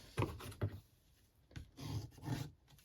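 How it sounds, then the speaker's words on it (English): A folding bone burnishes the creased edge of a paper treat package, giving repeated dry rubbing strokes in short bursts, close and fairly quiet, with brief pauses between passes. "And again, just burnishing there to there."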